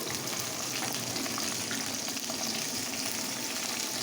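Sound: eggplant added to fried potatoes sizzling in pan

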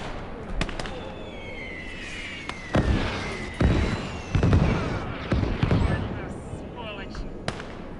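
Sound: artillery fire in video game Call to Arms: Gates of Hell

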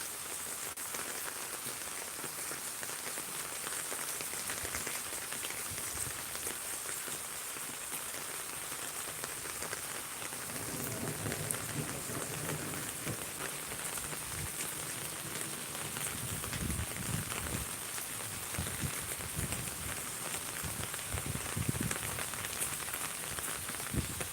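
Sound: rain with thunder in Miraj

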